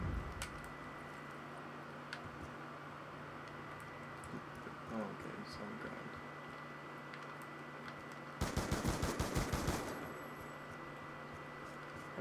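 A short burst of fully automatic fire from a Diamond FAL rifle in a video game, rapid evenly spaced shots lasting about a second and a half over a steady background hum, with faint scattered ticks elsewhere.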